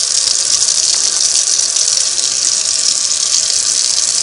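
Water from a tap gushes continuously and loudly while rinsing the needle plate of a Singer 301A sewing machine in a sink, steady and close, with no voices.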